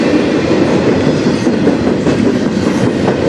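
A rare locomotive in Sarnia, Ontario passes close by on the rails, making a loud, continuous rumble with a rhythmic clickety-clack of wheels running throughout.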